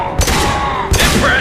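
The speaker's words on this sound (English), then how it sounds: "Explosive shot ready." An explosive shot goes off in Mass Effect 2, a pair of sharp, loud bursts with booming tails, close up with voices under the game sound.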